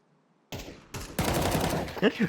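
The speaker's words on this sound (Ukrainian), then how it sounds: "Що то за постріли?" Rapid gunfire from the Counter-Strike 2 video game, heard as a burst of sharp, crackling shots after a brief silence, fairly faint, with a voice speaking briefly in between.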